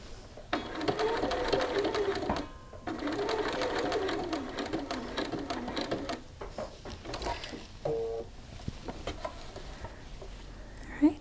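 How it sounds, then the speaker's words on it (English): Sewing machine stitching along the short edge of a shirt cuff, running in steady whirring bursts with a brief pause and restart as the work is turned, fairly close and alone. "Then we're going to rotate to stitch across the short edge."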